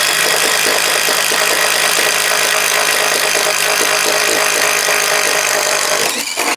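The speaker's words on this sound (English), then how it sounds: "we're going to start first with the Craftsman RP impact driver. This is just a 5/8 inch Diablo speed demon bit" A Craftsman RP impact driver bores with a 5/8 inch Diablo Speed Demon bit, making a loud, steady grinding whine that runs unbroken for about six seconds before cutting off.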